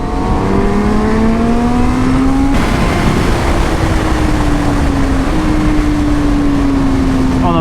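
A 2020 Honda Fireblade SP sport bike screams under hard acceleration, its rising engine note cut by a sudden quickshifter gear change, then pulling on loud and close with a steady whine and heavy wind roar.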